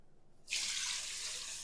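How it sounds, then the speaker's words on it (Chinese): Water from washed rice for eight-treasure rice pours out suddenly and keeps running in a steady, close rushing splash after a brief quiet start. "给它过滤掉里面的水分"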